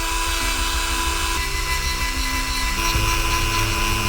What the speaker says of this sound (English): I'll once again take the Dremel and sand away on his head until the helmet fits